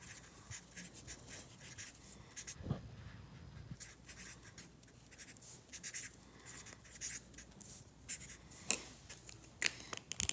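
Pen or marker scratching across a handmade Mother's Day card, soft intermittent strokes with a few sharper taps, close and quiet with no talking.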